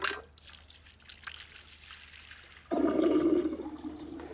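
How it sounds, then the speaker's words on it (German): Toilet flushing to wash a spider down, starting with faint trickling and drips before a sudden loud rushing surge of water that swirls on steadily. "Und was passiert nun beim Runterspülen?"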